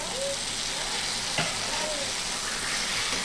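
Boiled taro leaves dropped into a hot pan set on a medium-to-high gas flame, giving a steady frying sizzle with a single soft knock partway through, close and even in level.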